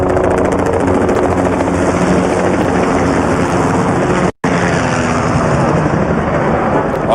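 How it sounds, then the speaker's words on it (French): Two Bell 505 helicopters flying in formation at a navy demonstration, a loud continuous rotor roar with a brief dropout midway, no talk. "Donc on a la formation Malo avec 2 hélicoptères Bell 505"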